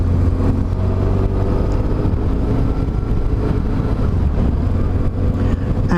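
A BMW R1150 GS motorcycle engine, just fitted with swapped injectors, idles steadily and loudly close by, a constant low rumble with no voices over it.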